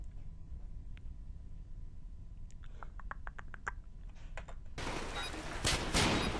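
A gunshot sound effect lands in an After Effects screen-pump edit: a quiet stretch with faint clicks, then a loud, harsh burst of gunfire noise that swells toward the end.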